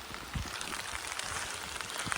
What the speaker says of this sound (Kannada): ಮಳೆ ಜೋರಾಯ್ತು.